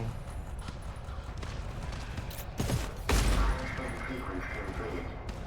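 Gunfire from the cooperative horror shooter GTFO, with a few sharp shots and a burst standing out over a constant noisy game soundscape, and some speech mixed in underneath.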